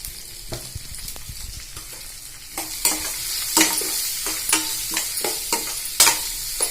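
Crumbled idli sizzles steadily in a hot pan with turmeric while a utensil scrapes and stirs in irregular strokes, close up and without any talking.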